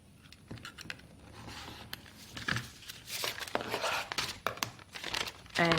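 Paper piecing pattern and quilting fabric being folded along a creased line and trimmed, giving close, soft crinkling and rustling of paper with a few sharp snips and taps, steady and alone without talk.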